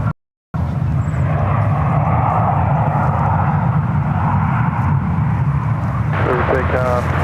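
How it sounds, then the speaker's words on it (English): A Delta Airlines Airbus A320, formerly a Northwest plane, roars on takeoff from runway 1 Left at San Francisco International, bound for LAX. The loud, steady jet rumble stays close throughout, and a faint voice comes through near the end. "Aircraft lined up on one left heading to LAX. Delta Airlines Flight 2272. It's an Old Northwest A320."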